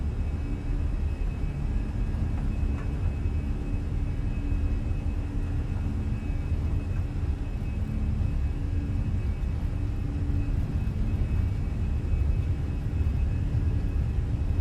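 Airbus A320 jet engines during a takeoff roll in Microsoft Flight Simulator, a steady, loud low rumble with a faint high whine held throughout, unbroken and without talk.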